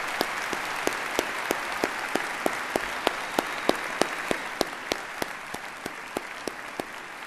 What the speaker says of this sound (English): Please join me in a round of applause to acknowledge their service